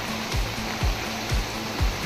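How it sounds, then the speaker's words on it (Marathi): Floodwater rushes through flooded farm fields like a waterfall, a loud, steady broadband roar with a low repeating thump beneath it, heard alone without speech. "बघा कसं धबधबे सगळं भरून वाहतंय पाणी."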